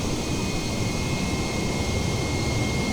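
Airbus jet engine roar in Microsoft Flight Simulator during a climb after takeoff, a steady, loud broadband rumble with a faint constant whine, continuous and unchanging throughout with no voices.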